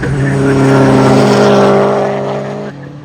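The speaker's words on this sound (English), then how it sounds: "we are almost ready to send out the drift cars" Drift cars lapping a track, engines roaring loud and close with harmonic revving that holds steady, then eases off near the end as tires hiss and squeal.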